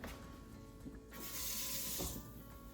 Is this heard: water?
yes